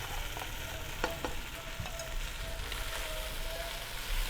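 Chicken fried rice with raw vegetables and cooked rice stir-fried in a pan gives a steady, dense sizzle throughout, with scattered scraping stirs of a spatula close by.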